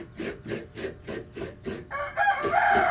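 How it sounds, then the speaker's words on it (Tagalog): Farmyard chickens cluck in a quick rhythmic series nearby, then a rooster breaks into a loud, close crow that fills the last second, with no talking. "Tatay sa mga manok, oh."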